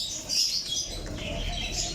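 Pigeons kept by a breeder, with soft chirps and faint wing flutters close by in a quiet setting, lasting only a couple of seconds.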